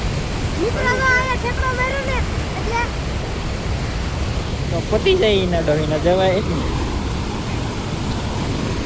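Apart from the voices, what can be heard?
water flowing in a full canal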